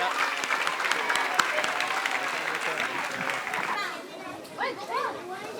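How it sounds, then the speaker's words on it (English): An audience at a school convocation ceremony applauds the regional coordinator, loud dense clapping for about four seconds with children's voices mixed in, then fading into chatter and a speaking voice. "Can we give a big round of applause to Gaud Garu"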